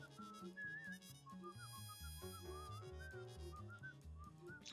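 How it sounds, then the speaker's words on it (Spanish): A person whistles a wavering, melodic tune over loud background music during a gaming session, the whistle gliding up and down continuously throughout. "deja de silbar"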